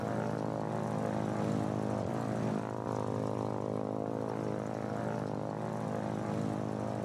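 A propeller aircraft engine drones steadily in flight in the video game Foxhole, a loud, constant hum with no breaks and no voices.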